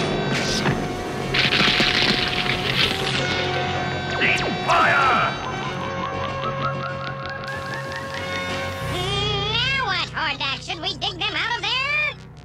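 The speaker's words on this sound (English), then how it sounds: "you will all fire at once. He-Man can't stop all our freeze rays, and I shall fire the crawler's giant freeze cannon." Cartoon freeze ray guns and a crawler's giant freeze cannon firing in a She-Ra animated battle, a loud dense barrage of zapping, warbling energy blasts and crashes, ending in a run of rising and falling laser-like sweeps.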